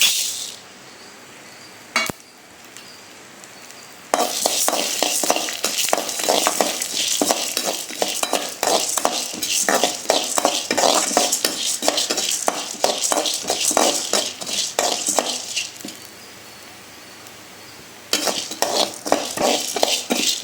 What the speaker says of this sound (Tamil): மீடியம் ஃப்ளேமில் வச்சு தான் வறுக்கணும்.